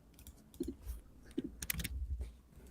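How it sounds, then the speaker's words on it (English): Typing on a computer keyboard held close to the microphone, a quiet, irregular patter of soft clicks and keystrokes with a few brief clusters. "We're also giving a good ASMR sound experience with the keyboard close to the mic."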